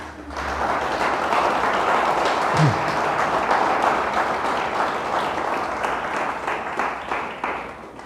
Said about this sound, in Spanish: Dele un fuerte aplauso a Dios.